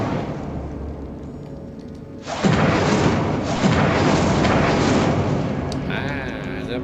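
Incendio fire spell from Hogwarts Legacy, a sudden loud whooshing fiery burst that swells partway through and roars on steadily, with a voice heard before it.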